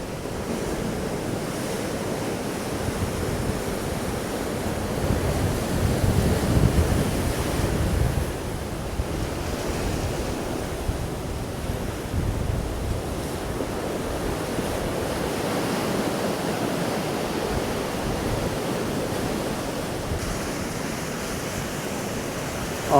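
Sea waves at Nanjizal, heard from a coastal cliff path high above the water, make a continuous roar and swell in slow surges, mixed with buffeting wind on the microphone, with no voices.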